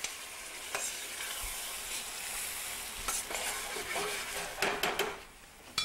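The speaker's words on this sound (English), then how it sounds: "we're going to add the tomatoes right into the garlic and the pepper juice that's in there" Tomatoes hit sizzling garlic and pepper juices in a pan for an Italian tomato sauce, a steady close frying hiss with a few sharp spattering crackles and utensil scrapes as they are stirred.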